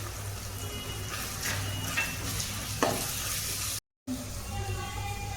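Ginger garlic paste masala simmering in oil hisses with a steady, close sizzle and occasional stirring scrapes, fairly loud, while a voice talks in the background.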